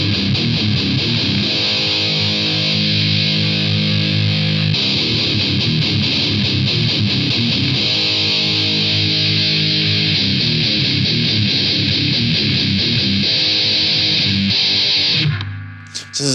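Electric guitar played through a TC Electronic Fang fuzz pedal, producing a thick, saturated distorted tone with sustained chords and riffs that continue steadily for about fifteen seconds before cutting off abruptly near the end.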